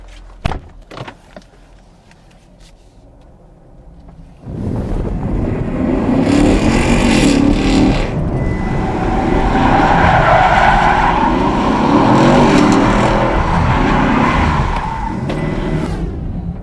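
A Chevrolet Camaro SS is driven off, quiet at first with a few clicks, then a loud sustained engine roar and tire noise that builds and holds for the rest of the stretch.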